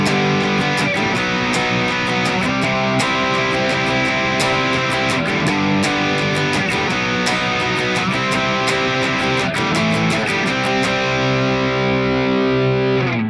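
Heavily distorted electric guitar chords chug steadily in a dense, loud wall of sound, with a regular driving rhythm throughout and no voices.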